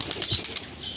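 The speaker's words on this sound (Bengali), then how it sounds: "সবচাইতে ভালো উড়ে এই কবুতরটা" A pigeon is released and flaps its wings, a quick burst of a few fluttering wingbeats close by, then fading within a second.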